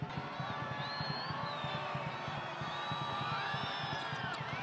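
Travelling fans in the arena crowd at a Philippines versus Kazakhstan FIBA World Cup Asian qualifier basketball game, a steady loud roar of voices with whoops and rhythmic stomping or chanting beats throughout.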